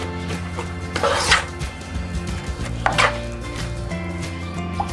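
Knife chopping through sushi ingredients for a California roll in a home kitchen, a few sharp cuts landing against a cutting board amid steady background noise, two louder strikes standing out.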